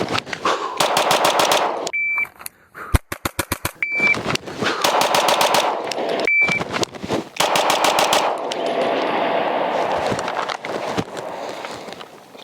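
Compensated pistol fired in fast timed strings on a range, sharp close gunshot cracks in quick bursts, with brief beeps of a shot timer between strings and no talking.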